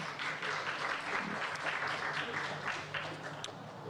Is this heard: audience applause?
yes